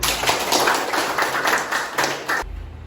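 A classroom of students claps together in a dense, sustained burst of applause that stops abruptly, leaving near silence.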